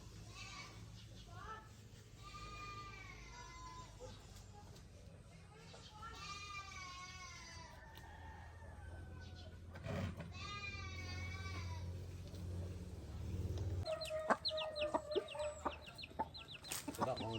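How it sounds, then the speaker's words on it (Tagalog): A goat bleats on a farm, with chickens clucking around it. Several wavering calls repeat over a low hum, and people talk nearby. "The goat."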